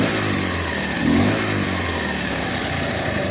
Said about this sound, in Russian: В принципе, звук выхлопа мне нравится.